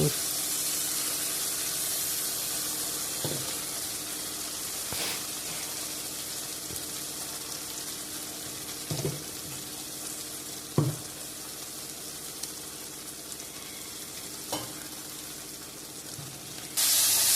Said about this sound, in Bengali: এই সময় আঁচটা একটু কমিয়ে ভালো করে কষাতে হবে